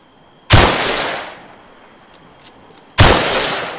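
Two loud gunshots in the video game Arma 3, each a sharp crack followed by a long echoing tail, spaced about two and a half seconds apart.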